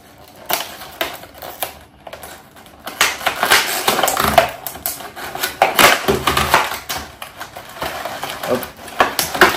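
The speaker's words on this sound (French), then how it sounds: "Donc on va le déballer ensemble." Venum Competitor mouthguard being unboxed, with a run of crinkling, tearing and rustling packaging and small plastic clicks, close and busy, growing livelier after the first couple of seconds; no voices.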